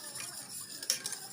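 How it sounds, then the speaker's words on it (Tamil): A spoon briefly scrapes and clinks through an eggless orange pudding mixture in a pan, quiet and close, with no talking. "நல்லா கட்டி இல்லாமல் மிக்ஸ் பண்ணி விட்டுக்கோங்க"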